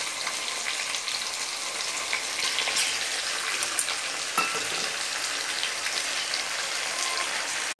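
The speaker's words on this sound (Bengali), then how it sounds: "পেঁয়াজটা মটরশুঁটিটা একটু নাড়াচাড়া করে" Onion and green peas stirred in a pan, a dense, rain-like sizzle with occasional spatula scrapes, close and steady throughout with no voices.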